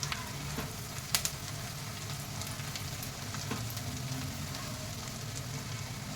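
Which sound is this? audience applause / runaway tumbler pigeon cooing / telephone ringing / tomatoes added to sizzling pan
tomatoes added to sizzling pan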